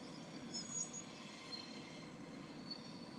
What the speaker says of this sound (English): Oh my god. That's the longest train ever.